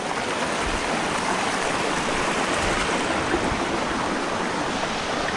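Tinakayanan Falls pours in a dense, constant rush of white water, loud and near, steady throughout with no voices over it.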